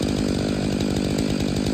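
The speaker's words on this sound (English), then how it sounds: "That chainsaw has a lot of power, very snappy." A Stihl 500i chainsaw with a 25-inch bar cuts into a large tree, its engine roaring loud and close in a steady, continuous snarl with no voices.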